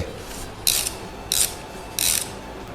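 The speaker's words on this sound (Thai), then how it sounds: "เอาน็อตตัวผู้มานะฮะใส่เข้าไป ที่หางปลา ยัดลงไป หมุนมือเล็กน้อย แล้วก็ขันเลย" A wrench ratchets on the battery terminal nut of a Honda Monkey motorcycle, making three short, close, crisp clicking bursts at a steady rhythm over a low background hiss.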